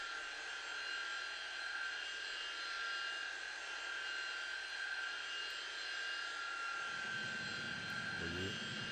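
A Tupolev Tu-154M in a flight simulator gives off a constant jet-engine drone with a high whine, holding steady in the cabin, as a low voice joins near the end.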